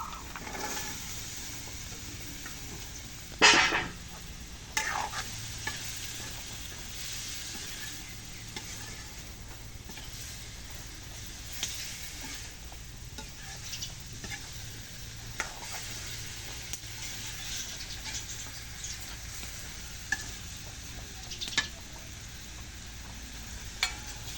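Curry with chillies sizzles steadily in hot oil in a pan while being stirred, with scraping stir strokes and a sharp clink early on over a constant frying hiss. No talking.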